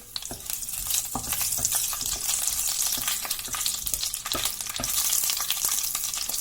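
Chillies fry in oil in a pan for a village-style chicken curry, a steady close hiss and sizzle with occasional scrapes and clicks of stirring, no voices.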